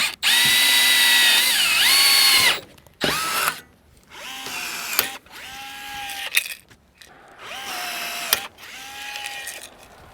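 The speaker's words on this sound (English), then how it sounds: "Now we got to try and get these closed up with a rivet." A rivet tool works on a standing seam metal roof hip cap, with several sharp, close mechanical bursts separated by short pauses.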